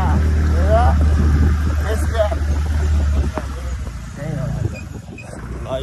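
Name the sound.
scooter engine while riding on a mountain road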